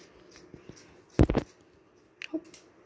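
Scissors cut through folded pool table rail cloth in one short crunching snip, followed by a lighter second cut, close and otherwise quiet.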